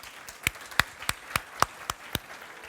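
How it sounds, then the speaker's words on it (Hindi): Sharp, isolated claps ring out at an award ceremony in a large hall, about eight distinct hand-claps spaced irregularly, like the sparse beginning of audience applause. "तालियों के बीच।"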